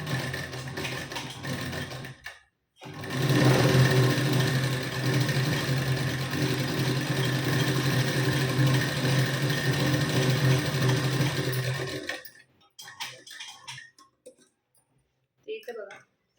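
A domestic sewing machine stitches a half-inch folded blouse hem, a steady mechanical whirr running for about nine seconds after a brief start, then stopping into quieter handling sounds.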